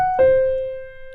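Two clean, sustained notes from the melody ring out alone, a higher tone quickly followed by a lower one that slowly fades.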